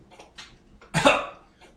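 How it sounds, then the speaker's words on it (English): A person coughs once from behind a couch indoors, a short loud burst near the middle of an otherwise quiet moment, with faint background sounds around it. "you hear coughing from behind the couch"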